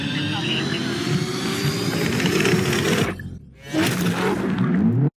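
In Need for Speed Unbound, car engines, including what sounds like a V8 near a Nissan S14, roar and whoosh steadily, briefly dropping out mid-way before surging back loud.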